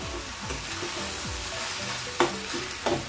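Dried Bombay duck shutki fries with onions over a high flame, a continuous close sizzle broken by a couple of sharp spatula scrapes and clanks against the pan, with no voices.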